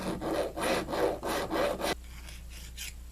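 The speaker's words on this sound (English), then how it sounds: "And just deburring the edges, get all the major burrs off there." A hand file deburrs the edges of a sight part for a 1911 9mm pistol: about five close, even rasping strokes, then a quieter, fainter scrape at the end.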